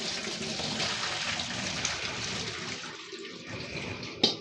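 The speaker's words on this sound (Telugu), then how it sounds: "ఇమీడియట్గా ఇవి స్ట్రైన్ చేసేయాలండి ఇక్కడ చూడండి స్ట్రైనర్లోకి" Boiled cauliflower and hot water tipped into a strainer make a steady, close rushing pour that drains for several seconds, ending in a sharp clatter with no voices.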